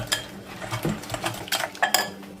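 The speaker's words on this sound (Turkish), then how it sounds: "İyice çırpıyorum." Whisking flour and a spoonful of egg yolk in a bowl for spinach yoghurt soup, with a few light scraping and tapping clinks of the whisk against the bowl, close and fairly quiet, no talking.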